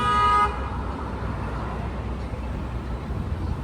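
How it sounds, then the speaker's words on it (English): A car horn blares loudly for half a second in city traffic, then fades into a steady low rumble of passing vehicles and road noise. "Hearing all these horns"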